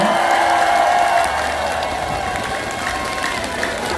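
Audience at an outdoor song festival at Dongnae Eupseong fortress applauds for a singer, a loud, continuous crowd clapping with some cheering, holding steady throughout and easing slightly after the first second.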